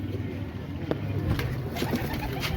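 Pigeons cooing in a crowded loft being sold off, soft low repeated coos over a busy murmur of many birds, with occasional wing flutters and scuffs close by.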